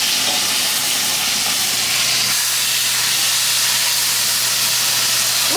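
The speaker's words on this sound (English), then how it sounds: "it's gonna sizzle and do all that fun stuff because you're putting a liquid into the pan" Skin-on salmon crisping in a hot pan as a chile lime glaze hits the surface, giving a loud, steady broadband hiss and sizzle that holds throughout with no talking.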